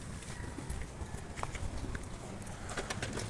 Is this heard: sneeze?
no